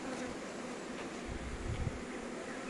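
Honeybees buzz at hives in a queen-rearing apiary, where colonies are feeding queen cells, making a dense, continuous drone that fills the air close by without any talk.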